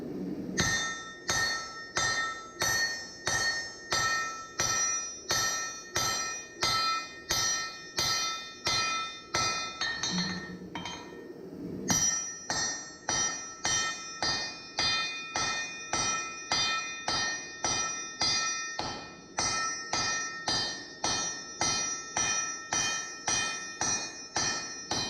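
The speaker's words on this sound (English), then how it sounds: "So I'm beginning to forge out the main body of the axe." Hammer blows forging a Damascus steel axe blade, a long run of sharp ringing metallic strikes in a steady rhythm with a short pause midway, close and loud.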